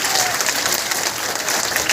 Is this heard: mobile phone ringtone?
no